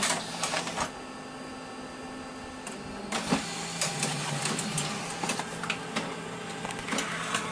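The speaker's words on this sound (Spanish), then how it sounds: "Y lo mandamos a imprimir." An inkjet-style printer printing a recreated cassette cover insert, a steady mechanical whir with sliding carriage passes and clicks, close and continuous with no talk.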